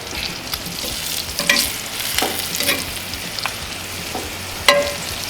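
Ribeye steaks sizzle on a hot grill in a steady frying hiss, broken by several sharp scraping and clinking sounds as they are moved about. No voices.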